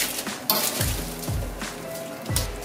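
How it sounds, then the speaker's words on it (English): Butter sizzles in a medium-sized skillet with a soft, steady crackle. Several sharp clinks of a utensil against the pan punctuate it. "I've got my butter going in my medium-sized skillet"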